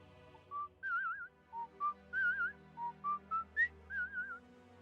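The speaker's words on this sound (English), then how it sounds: "A whistle." A person whistles a short, warbling tune of about ten separate notes, clear and fairly close, with soft pauses between phrases.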